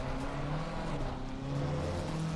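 A Ferrari 296 race car engine drones steadily at Spa in the Assetto Corsa Competizione racing game, its pitch rising and shifting through gears, loud and continuous with no talking.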